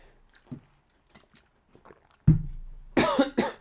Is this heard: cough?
yes